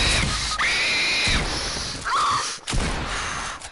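During a PS4 game stream, a player lets out several piercing high screams in bursts, with brief gaps and gasps between them.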